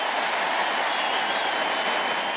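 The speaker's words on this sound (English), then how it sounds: "And that gets the crowd on their feet." Crowd at a college football stadium during TCU vs. Kansas State, a dense, steady roar of cheering and clapping without pause.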